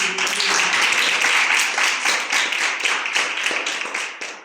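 An audience claps together in continuous, fairly loud applause at a Sunday school skit for a local MLA, with dense overlapping hand claps that hold steady and then thin slightly toward the end.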